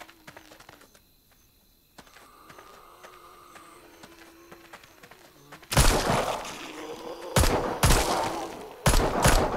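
Barrett rifle fire in the Arizona Sunshine video game arrives as several loud, sharp cracks in the second half, each separated by a short pause, after a quieter stretch of game ambience.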